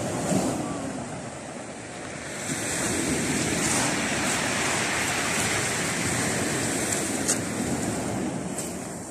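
Turquoise sea waves wash against a slippery rocky shore of white cliffs near Gagra, Abkhazia, on an overcast March day, a steady, loud broadband surf roar with light wind noise and no talking.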